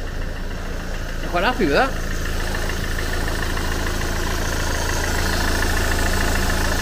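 A 2010 Ford Mondeo 2.0 TDCi diesel engine idles steadily and close by, a low continuous rumble running throughout while someone speaks briefly over it near the start.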